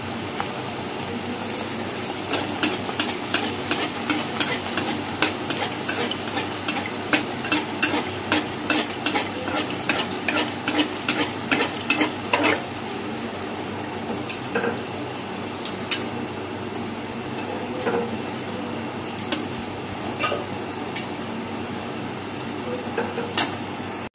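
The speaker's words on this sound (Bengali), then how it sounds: "এবার গরম গরম লুচি ভাজবো।" Luchi flatbread fries in hot oil, a steady soft sizzle under clusters of quick clinks and scrapes from a utensil working the pan, busy at first and then thinning into sparse taps.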